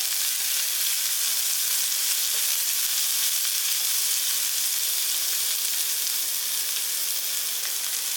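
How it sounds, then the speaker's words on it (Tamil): Ingredients for paniyaram sizzle and fry in oil in a pan, giving a continuous loud, even hiss with no break and no talking. "எல்லாமே சேர்த்து கொஞ்சம் வதக்கிக்கோங்க"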